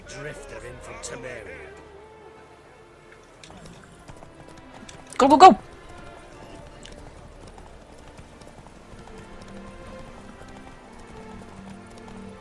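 Galloping horse in a race in The Witcher 3, a steady quiet clip-clop of hooves running underneath, with a loud burst of shouting partway through and talking over the hoofbeats.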